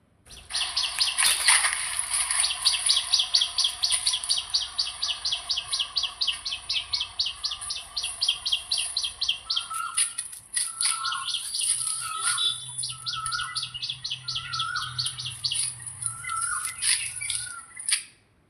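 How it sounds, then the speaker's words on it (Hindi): Parrots squawk in a mango orchard, a near, loud run of rapid repeated harsh calls that keeps going, joined later by a low steady rumble in the background. "यहाँ पर तोता हैं जो आम को काटते रहते हैं और खाते रहते हैं"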